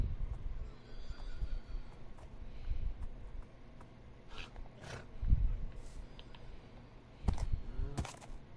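Donkeys in the Minecraft video game give braying, whinny-like calls in several separate bursts over a low rumbling background, moderately loud, with no one talking.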